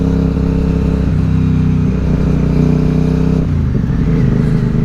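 An Aprilia Dorsoduro 750 motorcycle engine hums steadily while riding, a constant mid-pitched drone with a brief shift in tone partway through, no talking.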